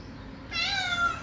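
A cat meows once in a close, clear, rising-and-falling call heard on a small balcony, following a short stretch of quiet room tone.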